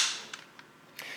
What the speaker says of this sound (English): Now you're going to pull back on the charging handle 3 times in quick motion.